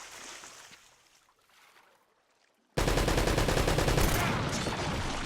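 Sudden rapid automatic gunfire from the Uncharted: Drake's Fortune video game bursts in after a quiet stretch and keeps going as a loud, dense, sustained rattle.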